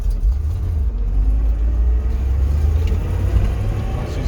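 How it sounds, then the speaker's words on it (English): A 1966 Corvette with a Muncie transmission cruises in fourth gear at 30 mph, a loud, steady low engine rumble from inside the car with road noise, unbroken and without talk. "Already in 4th gear, going 30 miles an hour."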